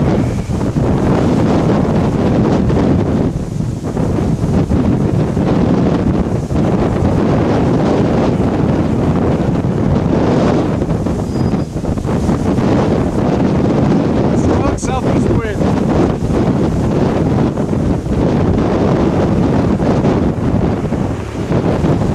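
Strong wind near a tornado outbreak in northern Kansas roars continuously and loudly across the microphone, a dense buffeting rush with gusty surges and no letup, and people talk briefly over it.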